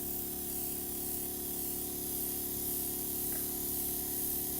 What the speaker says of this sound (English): I'm just going to spray, make sure that's clean, and then we can spray over the top of our cake.